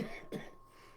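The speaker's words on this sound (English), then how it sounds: "I'm hoping this cough will not be a problem." A single short cough close to the microphone, brief and quiet, followed by near silence.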